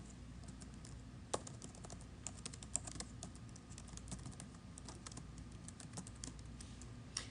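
Code is being typed in Eclipse on a computer keyboard: quick, irregular clicks of keys with a few sharper taps, quiet and close over a low background hum.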